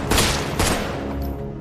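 Gunfire in an action film: a loud, close volley of shots in two quick bursts, with a rumbling tail fading out afterward.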